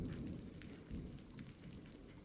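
Quiet storm ambience of steady rain pattering on surfaces with a low rumble of thunder underneath, faint and continuous with no voices.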